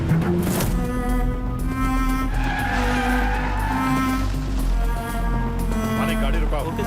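A jeep skids to a stop on a jungle road, a sustained tire screech over a steady droning background with tonal layers that run through the whole stretch.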